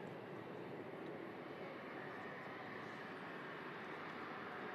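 A jet aircraft taxis toward a second runway, a steady distant broadband engine roar holding at an even level throughout with no clear changes.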